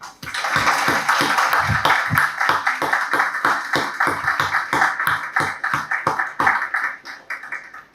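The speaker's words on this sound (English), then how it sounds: "join me in a round of applause for our guests" An audience at a Sikh community Vaisakhi event applauds its guests, steady sharp claps from a modest crowd that carry on for several seconds and thin out toward the end.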